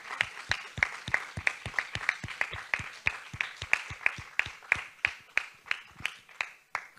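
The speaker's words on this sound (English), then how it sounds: "I invite the whole audience to give a round of applause to all our speakers." Conference audience at a museums and neuroscience session clapping for the speakers, a steady run of sharp, close handclaps that thins out toward the end.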